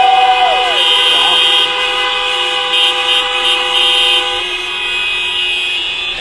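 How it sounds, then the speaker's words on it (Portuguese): A chorus of car horns honked by an audience at Allianz Parque stadium blares continuously, several overlapping tones honking loudly together before tapering slightly toward the end. "Dá uma buzinadinha."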